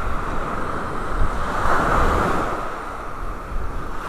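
Breezy wind at a beach in North Naples, Florida before sunrise, a broad steady rush of wind buffeting the microphone blended with soft surf, swelling slightly in the middle and continuing without voices.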